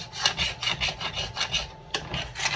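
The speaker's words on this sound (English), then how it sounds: "It needs to be scraped up and incorporated" Spatula scraping browned fried rice crust from the bottom of a pan, a steady back-and-forth rasp of about a dozen strokes, close and alone with no voices.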